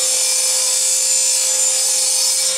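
Saw cutting through a walnut board, a continuous bright rasping whine that holds steady and close throughout with no talk.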